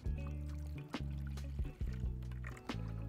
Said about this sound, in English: we can pour it into the vat